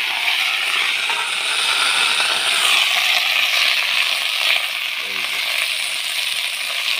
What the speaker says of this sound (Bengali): মরিচ পেঁয়াজ যা আছে সব একসাথে দিয়ে ফাড়াই হয়ে যাবে